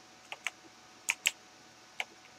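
Sparse computer keyboard clicks during a video game session, a few crisp taps in pairs and singles, close and isolated with no talk over them.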